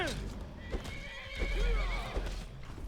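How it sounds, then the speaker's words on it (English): Horses in the video game Skyrim whinny with long, rising calls while hooves clip-clop beneath them, close and fairly loud, with game ambience filling the background. "What are the horses doing here?"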